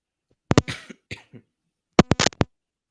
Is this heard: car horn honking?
no